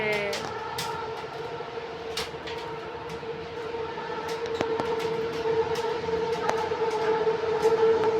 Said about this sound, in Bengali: ওই যে সবুজ রং নীল রঙের ছাউনি দেখা যাচ্ছে ওটাই এলআরটি স্টেশন ওই যে ট্রেন আসছে